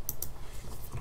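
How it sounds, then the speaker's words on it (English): Quick keystrokes on a computer keyboard, a short burst of light, crisp clicks heard close and alone over a faint background hum. "press tab on your keyboard to erase the text"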